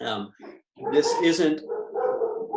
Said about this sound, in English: sorry about the dogs. I don't know why they decided that now is the time to bark